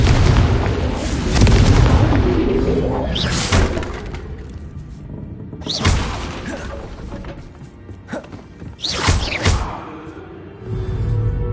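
Several heavy explosion bursts from the Confringo spell in Hogwarts Legacy, spaced a few seconds apart over dense game combat noise and music, loud and close.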